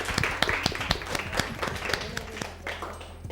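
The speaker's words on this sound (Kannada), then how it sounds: "ಎಲ್ಲರೂ ಒಂದ್ಸಲ ಮತ್ತೆ ಇನ್ನೊಂದ್ಸಲ ಚಪ್ಪಾಳೆ ತಟ್ಬಿಡಿ." A studio audience at a television comedy show claps in sharp, dense bursts, close and lively, then thins slightly toward the end.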